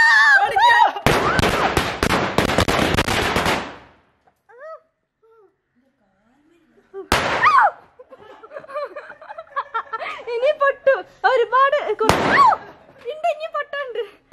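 Firecrackers go off outdoors: a dense, rapid crackling volley of loud bangs for a few seconds, then a lull, followed by isolated sharp pops, with excited voices and laughter around them.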